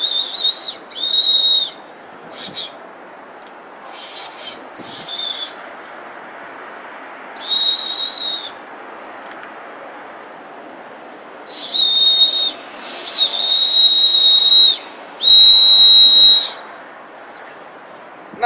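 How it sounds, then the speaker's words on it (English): Built-in survival whistle on a Trayvax wallet blown in several shrill, steady bursts of varying length, close and fairly loud, with pauses between over a faint hiss of background. "survival whistle."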